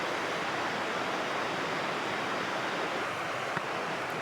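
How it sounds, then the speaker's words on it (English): Waterfall beside a mountain campsite on the John Muir Trail, a steady, broadband rushing roar of falling water that stays constant and fairly loud throughout, with no voices. "There's a waterfall right there."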